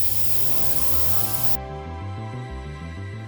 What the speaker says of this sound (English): I'm going to use Tamiya gloss black for the visor on the helmet here